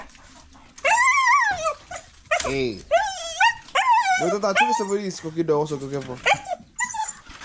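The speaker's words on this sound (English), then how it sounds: "So my dog wants to go outside." A pet dog whimpers and yips, wanting to go outside, the high whines and short yelps rising in bursts close by, mixed in with a person talking over them.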